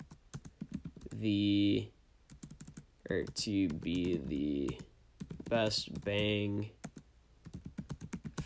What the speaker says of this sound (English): I don't know why I'm typing it.